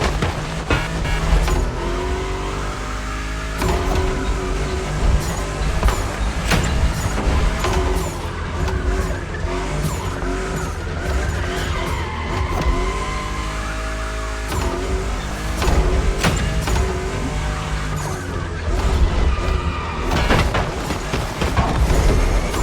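A fifth-generation Toyota Supra drives in The Crew Motorfest drift racing, engine droning and revving through gear changes, with tire squeals and swooping pitch sweeps over a dense, loud, continuous mix.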